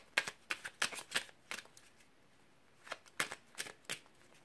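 Oracle cards being shuffled by hand in quick, crisp bursts: a cluster of riffles, a short pause, then another flurry, close and soft.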